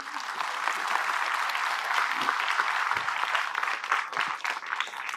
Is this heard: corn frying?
no